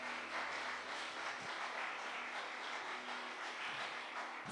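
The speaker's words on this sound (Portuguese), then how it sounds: "Pode aplaudir a Jesus se você quiser." A church congregation applauds during a worship service, a steady wash of many hands clapping that holds without a break for several seconds at a fairly distant, moderate level.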